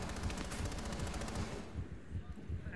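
Rapid automatic gunfire from Rainbow Six Siege, fired through a wall, crackles in a quick burst, faint overall and fading toward the end.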